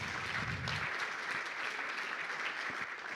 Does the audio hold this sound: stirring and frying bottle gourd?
no